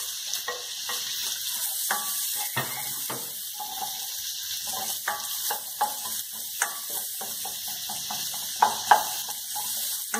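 Onion sautéing in butter in a pan, with a steady soft sizzle and frequent scraping, clinking stirring sounds throughout.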